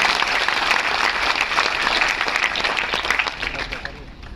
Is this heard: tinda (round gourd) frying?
no